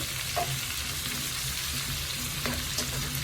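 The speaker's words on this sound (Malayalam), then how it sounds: "ഒരു സ്പൂൺ നിറച്ച് കായപ്പൊടി ഇട്ട് കൊടുത്തു." Asafoetida powder fries in hot oil for amla pickle with a steady, close, dense sizzle and a few soft stirring taps, without any voices.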